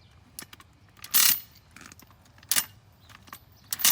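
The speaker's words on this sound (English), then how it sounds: "This time it's slowly ratcheting, but as you can see, sometimes it just lets go and free falls." A rebar extractor's mechanism clicks and clanks as it lowers, giving a few sharp metallic bursts over a quiet background, with irregular spacing between the loudest impacts.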